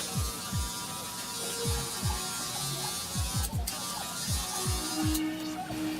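Electric hair clippers fitted with a half guard run steadily while cutting a bald taper at the nape of ethnic hair, a constant buzzing hum broken by repeated short low strokes and faint rustling throughout.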